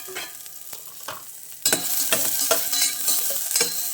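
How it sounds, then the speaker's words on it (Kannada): Fenugreek and cumin seeds hit hot oil with a sudden loud burst of crackling sizzle, following quieter stirring beside onions, then spit steadily for a tempering; close by, no talk. "ಆಮೇಲೆ ಮೇಥಿ ಜೀರಾ 2 ಹಾಕ್ತಾಯಿದ್ದೀನಿ ಒಗ್ಗರಣೆಗೆ."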